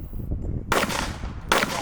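Two loud, sharp rifle shots from a PSA Sabre rifle at an outdoor multi-gun match, spaced under a second apart.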